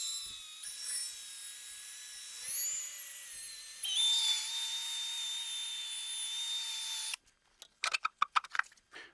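A high-pitched drill with a polishing pad whines steadily on a headlight lens, shifting pitch as pressure changes, then cuts off, followed by a few brief scraping and handling sounds.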